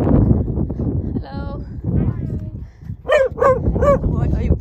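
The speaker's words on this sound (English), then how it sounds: "Why are you barking?" A dog gives several sharp barks and yips in quick succession near Dovestone Reservoir on a hiking trail, fairly close, following people talking over light outdoor noise.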